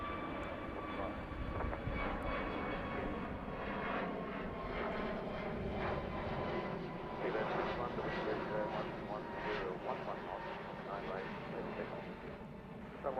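A jet airliner takes off at Heathrow, its engine roar building into a sustained, fairly distant rumble with whining tones, while a voice speaks over it.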